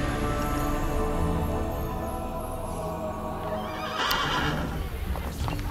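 A horse neighs loudly over a dense, steady Assassin's Creed Brotherhood game soundscape, with hoof clip-clops mixed in; no one speaks.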